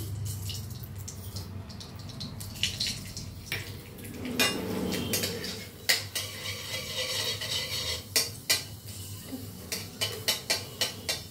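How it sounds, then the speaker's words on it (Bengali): Whole spices for a fish paturi tempering hit hot oil in a pan, with a sizzle that rises midway, then sharp, rhythmic scraping and tapping of a spatula against the pan near the end, with no talk. "চলো, এবার আমি ফোড়ন দিয়ে দিই।"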